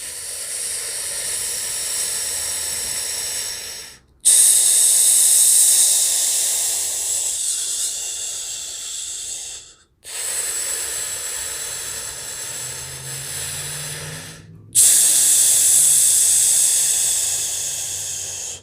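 Deep, steady breathing during an abdominal breathing exercise, long airy hissing breaths close to the microphone, each several seconds long and separated by brief silent pauses.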